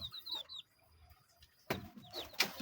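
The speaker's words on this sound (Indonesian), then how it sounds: "Ini kakakku juga pelihara ayam." Backyard chickens cluck near a family home in rural Cilacap, Indonesia, with soft clucks and chirps, then a louder burst of clucking close by.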